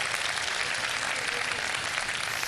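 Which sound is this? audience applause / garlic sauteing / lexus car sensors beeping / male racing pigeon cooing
audience applause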